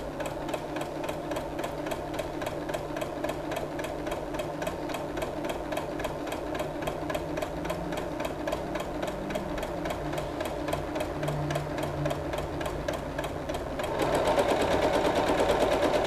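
A Janome MC12000 sewing machine runs a twin-needle straight stitch through cream fabric over stabilizer. The needle chatters in a fast, even, continuous rhythm close by and quickens near the end, with no talking.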